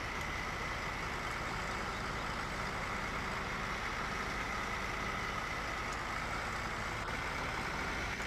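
A tractor engine in Farming Simulator 15 idles while the tractor is stuck, a steady low droning hum that stays constant and moderately faint throughout with no voices.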